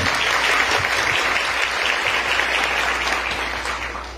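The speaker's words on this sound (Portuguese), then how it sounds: "Vamos aplaudir a palavra da nossa salvação?" A church congregation applauds during a sermon, giving loud, sustained clapping from many hands that fills the space evenly throughout and tapers only slightly at the end.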